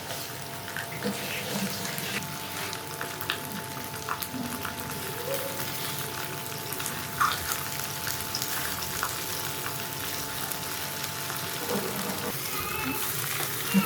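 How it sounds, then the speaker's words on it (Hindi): Fish frying on a tawa over low heat, giving a steady, even sizzle and hiss that runs continuously, with a faint hum underneath. "हल्की आँच पे जो ये फिश है सही फ्राई होगी"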